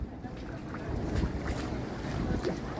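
Sea waves crash against coastal rocks at night on the Konkan coast near Shrivardhan, Maharashtra, as a steady, rough wash of surf and wind roar with no pauses.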